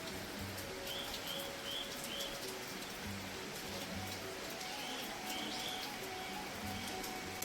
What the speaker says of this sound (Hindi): ठीक ठाक बारिश शुरू हो चुकी है